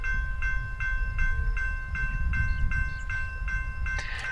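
An Amtrak passenger train hauled by Siemens Charger SC-44 diesel locomotives rumbles past on Raton Pass, with a loud continuous low roar, rhythmic clicking wheels and a sustained tonal whine.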